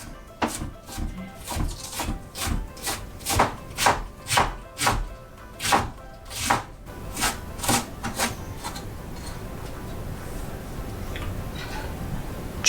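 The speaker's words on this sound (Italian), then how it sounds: "andiamo a tagliare finemente il nostro cavolo" A knife chops cabbage rapidly and finely on a board, about fifteen sharp even strokes, then slows into softer scraping and rustling of the shredded cabbage.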